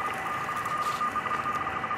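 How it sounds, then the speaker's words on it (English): Light rain drips and patters from a tree after a brief shower outdoors, a soft, steady scattered ticking that runs continuously beside a faint steady tone. "We had a little shower a few minutes ago, so a little bit of rain coming down from the tree as I turn the loop."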